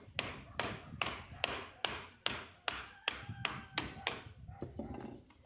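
Hammer blows ring out during hand repairs of homes damaged by a strike in the Khmelnytskyi region, about eleven sharp, evenly spaced taps, close and distinct with no talk.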